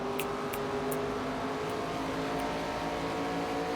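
Race car engines in the NASCAR 25 video game hum in a steady, continuous whir along the back straightaway toward turns three and four, moderately quiet with a few faint high clicks.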